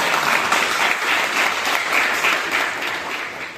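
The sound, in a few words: students applauding loudly in welcome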